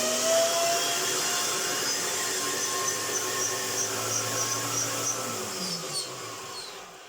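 A 550 watt vacuum cleaner motor runs close by with a loud, steady whining drone, its tone shifting slightly near the end as it begins to wind down.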